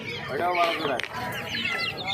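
Silkie chickens at a hen market cluck and chatter nearby in a steady, busy stream with a few sharper calls.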